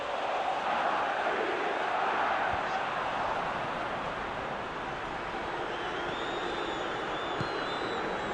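Football stadium crowd in PES 2020, a broad, steady roar of applause and cheering that stays loud and fairly even, with a faint whistle-like tone late on.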